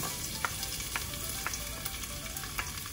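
Garlic sautéing in about three tablespoons of oil in a pan for chicken afritada, a steady close sizzle with a few faint scraping ticks, no voices.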